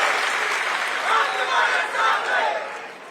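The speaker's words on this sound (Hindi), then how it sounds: "एक बार ताली बजा के पंकजा ताई का स्वागत।" Audience applause and cheering from a crowd at a political rally, welcoming Pankaja Tai; steady dense clapping with swells of crowd voices throughout, fairly loud and continuous.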